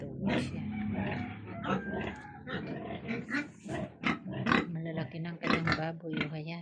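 Pigs on a provincial farm pen grunt and snort repeatedly at close range, mixed with someone talking over them throughout.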